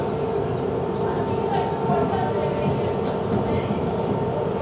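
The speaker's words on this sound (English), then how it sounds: "Oncoming train." A Toronto subway train rumbles steadily through a tunnel as another train approaches, a dense continuous roar with faint rattles and squeals, heard from inside a moving car.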